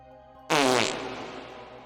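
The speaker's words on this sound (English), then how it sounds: "That's the fart of demons." A cartoonish fart from a demon ghost in the Paranormasight horror game, one loud sudden blast that rasps and then fades quickly over a quiet musical background.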